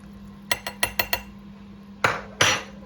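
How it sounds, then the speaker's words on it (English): A utensil stirs beef shin and bacon lardons in a slow cooker. Five quick, sharp clinks against the pot come in a row, then after a pause two louder, longer scraping knocks follow, close and clear without talk. "Give that a stir up."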